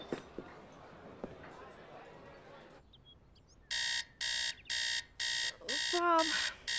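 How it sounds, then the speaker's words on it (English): An alarm goes off after a quiet stretch with faint talk, sounding as loud, evenly spaced electronic beeps in a steady repeating pulse, with a voice rising over the final beeps. "Turn the alarm off."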